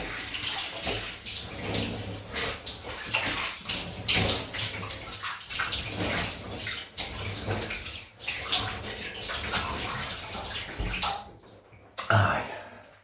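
Tap water runs steadily and fairly loud for a rinse during a wet shave with a Razorine Premium Special razor, with brief splashes and a short pause near the end before it resumes.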